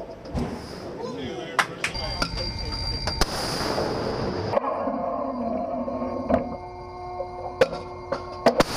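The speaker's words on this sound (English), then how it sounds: "Captain Tito, we are clear to fire." RAM missile launch during a live fire exercise aboard the amphibious assault ship USS Makin Island, a loud roaring blast with sharp cracks in the middle, with radio voices talking around it.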